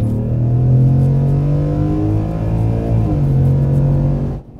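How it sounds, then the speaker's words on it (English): A Ford F-150 Dakar V8 exhaust is heard from inside the cabin, a loud, deep engine drone that rises and falls as the truck accelerates through gears, then cuts off abruptly at the end. "Let's see if this microphone will pick up the interior cabin noise from this exhaust."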